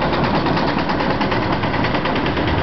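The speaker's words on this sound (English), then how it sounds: "Like a little guy in a tractor going by there." A small tractor drives past in a town in Jeollabuk-do, South Korea, heard from an apartment rooftop as a steady, loud, chugging engine drone.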